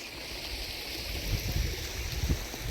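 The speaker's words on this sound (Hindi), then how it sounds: "तो एक छोटी सी स्ट्रीम है, जो कि मैया में जाके संगम करेगी इधर।" A small stream flowing into the Narmada river, a steady close rush and gurgle of running water with low churning in the middle, no voices.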